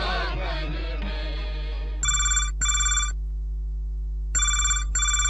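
A telephone rings for a listener's call-in to Hello FM Betul radio. Fading music gives way to a loud, bright double-burst ring, a pause, then another double burst, close and clear.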